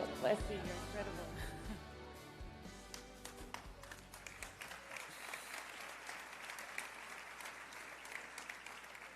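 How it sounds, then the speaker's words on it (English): Audience applause at a live conference event in Miami, loud clapping at first over a fading musical chord, then settling into steady, slightly quieter clapping that carries on to the end. "big round of applause again for our incredible tankistas"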